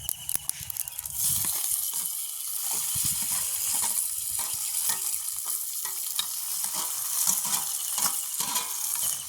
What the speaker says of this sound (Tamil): எல்லாத்தையும் நல்லா வதக்குவோம்.